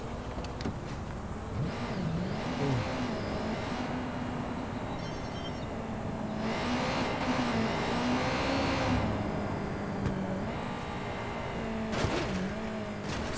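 Motorbike at full speed in the video game Watch Dogs 2, a continuous engine drone that rises and falls in pitch with shifting revs, over steady road and game ambience.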